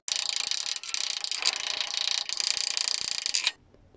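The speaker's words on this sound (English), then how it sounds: "so let's start chipping off the slag." Slag being chipped off a cast iron stick weld made with 6013 electrodes, a dense run of sharp metallic scraping and ticking strikes, close and loud for about three and a half seconds before stopping.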